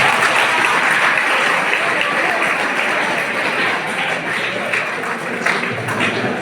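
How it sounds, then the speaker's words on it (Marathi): Loud, dense applause from a large crowd at a speech during an NSS annual camp at a government ITI in Chandrapur, sustained for several seconds without a break. "जोरदार टाळ्या होत्या या मुलींसाठी"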